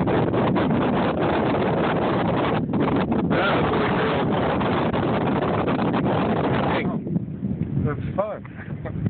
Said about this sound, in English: I love the wind. Flying in the wind.